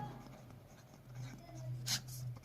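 Handwriting an answer with a pen on paper: soft, steady scratching strokes, faint and close, over a low background hum, with one brief louder scrape near the end.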